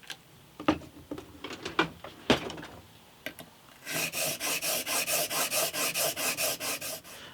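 A plane blade rubbed back and forth on a sharpening stone, first in scattered scrapes, then in a steady, even run of rasping strokes, close and fairly loud.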